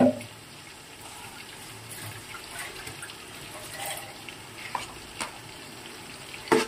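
Ginger garlic paste frying in a pot with masala and tomato for chicken biryani, a steady moderate sizzle with a few clinks and stirring knocks, no talking.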